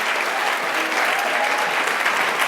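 Sustained crowd applause at a WIRED 2013 stage talk, many hands clapping in a thick, even wash with no pauses.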